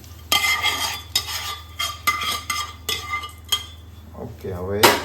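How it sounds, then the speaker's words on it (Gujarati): A tempering of fried chillies goes from a small pan onto semolina dhokla, marked by a series of loud metallic clanks and scrapes of a spoon against the pan, with a faint sizzle near the end. "વઘાર તૈયાર છે. વઘાર એડ કરી દઈશું."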